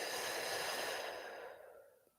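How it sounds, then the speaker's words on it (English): A deep, breathy exhale during a breathing exercise, close and soft, starting strong and trailing away over about two seconds. "And then deep exhale out."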